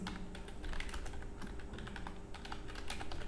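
A file name is typed on a computer keyboard in a steady, rapid patter of soft key clicks that lasts throughout, close and fairly quiet, with no voices.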